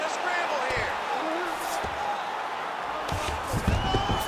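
Crowd cheering and roaring in a UFC 5 video game fight after a long grappling exchange, a steady wash of noise with a swell near the end and commentators talking over it.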